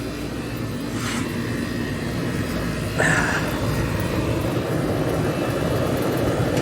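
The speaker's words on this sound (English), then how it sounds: "Yep, there goes the compressor." An old Goodman air conditioner's compressor kicks on, the steady outdoor drone stepping up in loudness midway and then running as a constant low hum, with a couple of brief higher tones before the start.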